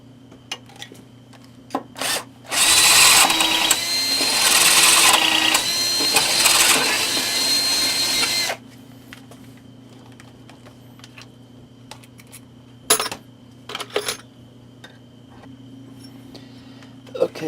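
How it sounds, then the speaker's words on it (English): A power drill bores a hole into a guitar body to fit a strap lock. It gives one loud, steady, high-pitched whir of about six seconds, with a few brief knocks and clicks from handling in the quiet before and after. "Okay, I'm going to go ahead and drill this one out."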